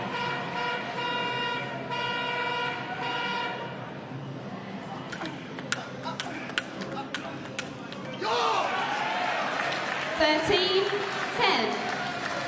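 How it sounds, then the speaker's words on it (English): Loud, sustained air-horn blasts from supporters ring out over a noisy crowd at a ping pong championship match, followed by sharp bangs and cheering voices. "I think Dai's winning in terms of his supporters having bigger air horns than Andrew's supporters"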